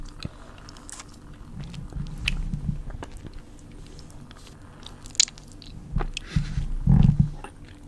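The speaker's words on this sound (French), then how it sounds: "Peut-être que cette vidéo va se transformer en bruit de bouche." Close, intimate mouth noises: soft biting, crunching and wet chewing sounds in irregular bursts over a quiet background, with no words spoken.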